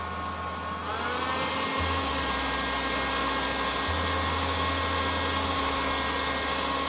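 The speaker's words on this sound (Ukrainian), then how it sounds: "фен споживає 1369 Вт" A hair dryer switches on and runs with a steady whooshing hum, its motor pitch rising briefly before settling into a continuous drone.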